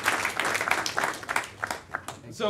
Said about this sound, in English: Maybe a round of applause for Alex over here.